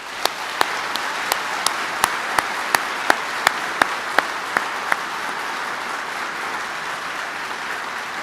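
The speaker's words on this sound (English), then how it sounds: "Give me a round of applause for all Army families." Applause from the audience at a Department of the Army retirement ceremony: a soft, even bed of crowd clapping with sharp, regularly spaced claps from one nearby pair of hands standing out above it.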